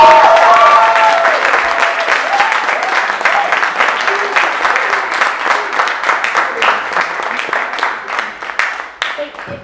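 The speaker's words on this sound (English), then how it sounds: "let's give them a round of applause." A crowd's round of applause at a Haitian cultural event, steady dense clapping that starts loud and gradually tapers into scattered claps over nearly ten seconds.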